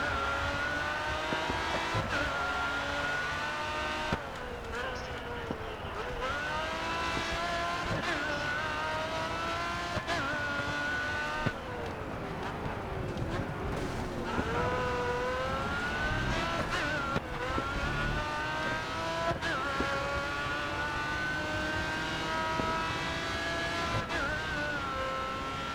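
Pagani race cars in the Grid Autosport racing game drone and whine steadily, their engine pitch rising and falling through gear changes and passes across the whole stretch, with no break in the engine noise.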